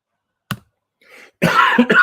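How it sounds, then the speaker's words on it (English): A single sharp cough, followed by a short breath and then a harsher burst of coughing and throat clearing, close up. "got a bit of a cough"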